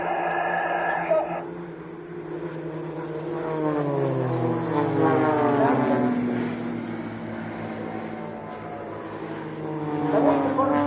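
Propeller aircraft flying in formation at the RAF Waddington Airshow 2013 give a droning engine roar that rises and falls in pitch as they pass overhead, with a voice talking faintly underneath.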